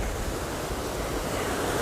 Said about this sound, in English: this waterfall used to be so much bigger